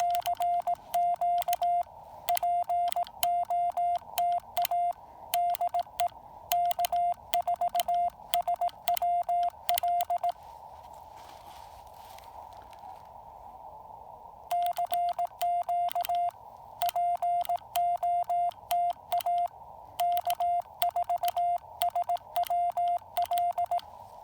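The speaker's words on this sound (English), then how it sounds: "You can hear that switching for the TR relay." A Yaesu FT-817ND radio transceiver's transmit relay clicks rapidly in time with keyed Morse code bursts, crisp ticks riding over a steady electronic sidetone, with a short pause in the middle.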